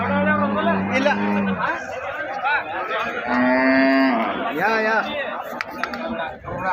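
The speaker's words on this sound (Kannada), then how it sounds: "ಇಲ್ಲೊಂದು ಎರಡು ಹಸುಗಳು ಇದೆ ನೋಡ್ರಿ" Several cows moo loudly and repeatedly at a cattle market in Kalghatgi, long drawn-out calls close by, with people chattering in the background.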